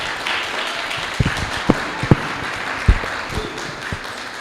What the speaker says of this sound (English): let's give a huge round of applause for Dr. Xaba.